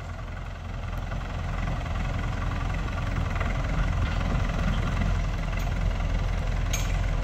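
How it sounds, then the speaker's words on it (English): A battered 60-year-old tractor on a countryside farm in Sweden idles with a low, steady engine rumble and faint knocking, running loud and close for the whole stretch with a couple of light clicks. "He's driving a tractor."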